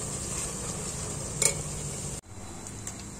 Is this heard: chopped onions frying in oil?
yes